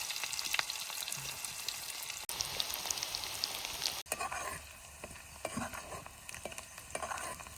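Cumin seeds and onion frying in hot oil for a spicy brinjal dish, a dense crackling sizzle like rain on a surface, broken by two abrupt cuts and settling into a steadier, quieter spatter.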